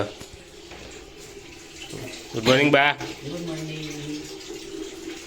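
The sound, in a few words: water running to fill a bath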